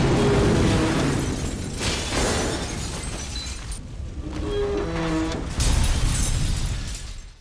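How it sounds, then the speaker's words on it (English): Massive explosion of a gas-filled room as a fire is lit, a loud roaring blast with shattering and crackling bursts that rumble on for several seconds. "The moment the fire is lit, a massive explosion happens,"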